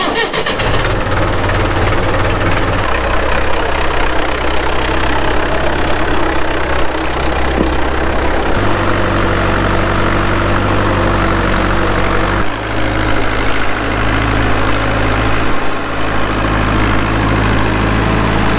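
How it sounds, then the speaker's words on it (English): A diesel farm tractor idles steadily and loudly up close, its low, even engine rumble continuous throughout with slight shifts in pitch and no talking. "You really don't want to run this tractor out of diesel because it's really hard to start."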